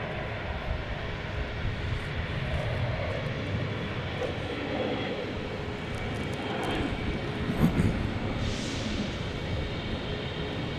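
A plane at Seattle-Tacoma International Airport makes a steady, broad jet roar for the whole stretch, continuous and moderately loud, with a brief swell near the end and no talking.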